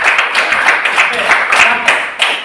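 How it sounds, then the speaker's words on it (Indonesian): A classroom audience applauds during a school lesson, with steady hand clapping throughout and a brief spoken word over the clapping. "Kita berikan tepuk tangan dulu."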